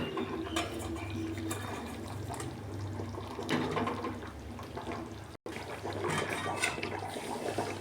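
Curry gravy for koi fish bubbles in a pan as the fish go in, a wet simmering hiss and gurgle with splashy bursts, broken by a brief gap of silence.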